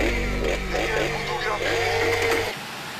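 Cartoon chainsaw buzz from a chainsaw killer scene in an animated show, a loud revving drone with rough pulsing that runs for about two and a half seconds, then cuts off abruptly.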